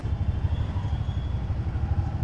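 Motorcycle engine running close by as it is pulled out of a parking area, a steady low throbbing idle with light mechanical clatter and no one talking.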